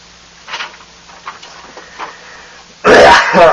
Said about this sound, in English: Excuse me for clearing my throat so much.